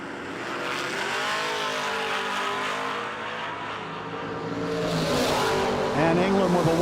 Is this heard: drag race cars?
yes